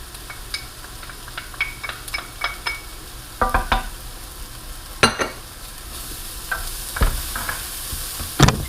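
Garlic hits a hot pan already holding softening celery and bell peppers, giving a steady background sizzle broken by clinks and scrapes of stirring, with no talking.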